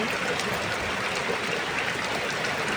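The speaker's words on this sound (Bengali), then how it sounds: "দেখতে তো পাচ্ছ কীভাবে বৃষ্টি হচ্ছে" Steady rain falls outside, a dense, even hiss of water with no breaks that stays constant throughout, with no voices.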